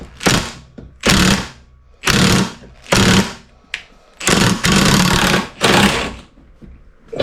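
Power tool torquing a front end bolt on a first-generation Toyota Tacoma during a CV axle and ball joint rebuild, firing in about six loud, close bursts of roughly half a second to a second each, separated by short pauses.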